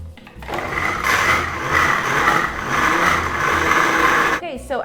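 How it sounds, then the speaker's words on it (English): A blender whirs loudly and steadily for several seconds while blending brownie batter, with a brief voice at the start and end. "give the blender a break if it needs it, but let's keep blending"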